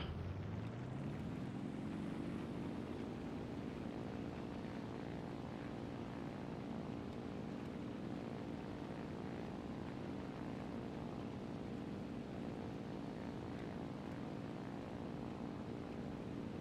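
A Yak-1B propeller fighter engine in War Thunder revs up, its drone rising in pitch over the first few seconds and then holding as a loud, steady, buzzing roar with layered harmonics.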